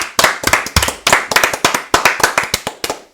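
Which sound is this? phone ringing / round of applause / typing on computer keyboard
round of applause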